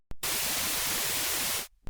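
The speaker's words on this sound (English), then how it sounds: "and white noise." Synthesizer white noise: a loud, flat hiss spread evenly across the whole range, switched on abruptly and held steady for about one and a half seconds before cutting off, alone without any voices.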